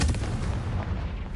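Spell explosions from the video game Hogwarts Legacy burst in a rapid, dense barrage of deep booming blasts that stay loud and continuous throughout, with no talking.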